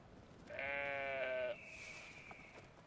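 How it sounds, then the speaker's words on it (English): A sheep in the game Brothers: A Tale of Two Sons gives one clear, fairly close bleat lasting about a second, then a quieter tonal tail fades out over faint background ambience. "This poor sheep. Being stuck like way down here."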